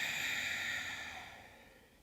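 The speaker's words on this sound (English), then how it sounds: "And a long, slow exhale." A long, slow exhale of breath during a calming yoga routine for sleep, a steady breathy rush close to the microphone that gradually fades over about two seconds.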